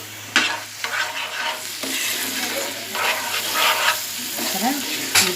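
Rajma gravy frying in a pan while being stirred, steady sizzling overlaid by repeated scraping strokes of a spoon at a loose, uneven rhythm, close and clear.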